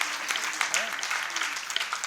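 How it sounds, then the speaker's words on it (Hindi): Audience clapping at a Shrimad Bhagavat Katha religious discourse at a math in Mathura, a dense, steady patter of many hands under a speaking voice, moderately close. "इनके लिए बड़ा जोरदार तालियों से स्वागत करो"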